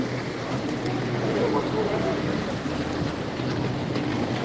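A speed boat passes along a Venice canal, its engine a steady, fairly close hum mixed with water wash and wind buffeting the microphone, continuous throughout.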